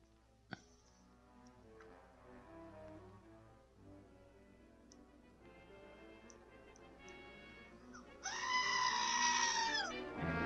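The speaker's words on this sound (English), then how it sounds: "Yes, a goat scream." A goat screams in a film scene, a loud strained bleat rising out of quieter background music and ambient sound and holding for about two seconds near the end.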